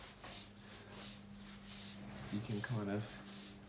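A scrubber sponge rubs a bonsai pot in rhythmic back-and-forth strokes, close and soft, with a low hum underneath and someone briefly speaking near the end.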